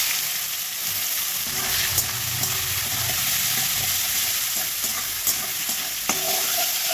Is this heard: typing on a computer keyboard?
no